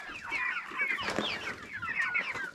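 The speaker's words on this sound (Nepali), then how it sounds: "त धेरै कुखुरा चल्ला हो।" A flock of hens and chicks cluck and chatter steadily in a netted coop, a busy overlapping murmur of calls heard faintly from a short distance.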